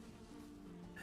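Bees buzz around honey-producing hives in a Viking survival video game, a brief, steady, droning hum with no other clear sounds.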